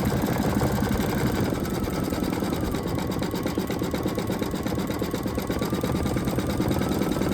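Embroidery machine stitching out a rooster design, a continuous fast mechanical chatter of needle strokes with a humming motor underneath, close, steady and loud throughout.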